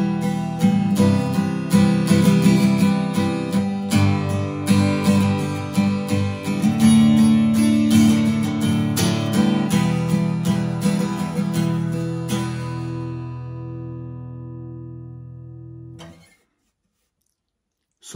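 Acoustic guitar strummed fast in a rhythm, with a steady stream of quick, even strokes, loud and close, ringing out into silence near the end.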